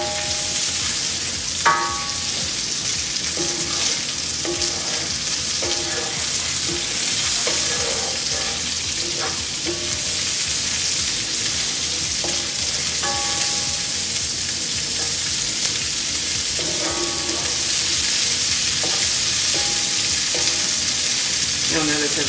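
Green beans sautéing in a pan, a steady loud sizzle and crackle with occasional clinks and scrapes of stirring running throughout.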